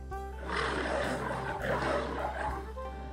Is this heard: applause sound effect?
no